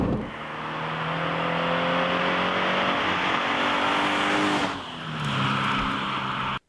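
A Toyota GT86 (Scion FR-S) engine pulling hard on a twisty road, a steady loud rising drone that eases briefly as the driver shifts, then climbs again before stopping abruptly.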